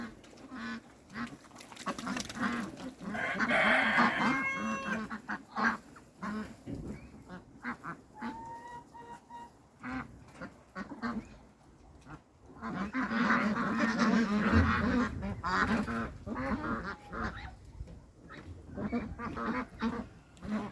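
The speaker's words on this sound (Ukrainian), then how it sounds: "Все, познімай качок" Ducks on a farm quack in scattered clusters over about twenty seconds, some honking calls mixed in, with low rustling and background activity between bursts.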